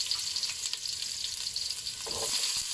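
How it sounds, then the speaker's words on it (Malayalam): Sliced onions frying in a mix of hot oil and ghee for garnish, a steady crackling sizzle with occasional stirring scrapes, close and continuous with no talking. "നമുക്ക് ഈ ഉള്ളി വറുത്ത് കോരി വെക്കാം"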